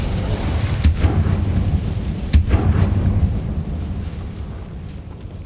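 An Incendio fire spell in Hogwarts Legacy erupts as a roaring, booming blast with two sharp cracks a second or so apart, then a rumbling, dying fire tail with no speech.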